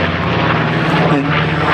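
Twin-engined P-38 Lightning heavy fighter flying at the Flying Legends air show, a steady loud propeller-engine drone sustained throughout with a slight swell midway, no talk over it.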